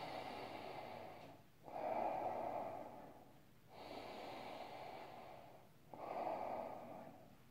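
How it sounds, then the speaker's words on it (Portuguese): A calming breathing technique demonstrated as slow, deep breaths: about four long breath cycles, each an airy, steady sweep, close and moderately loud with brief pauses between them. "Você pode ir respirando desse jeito até você ficar calmo"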